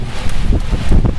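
Strong gusts from storm Caetano in Clermont-Ferrand buffet the microphone in short, rumbling bursts, loud and close, with no other sound.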